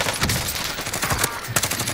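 Rapid gunfire from snipers in a multiplayer shooter game, a dense run of sharp shots crackling close and loud across the whole stretch with no talk.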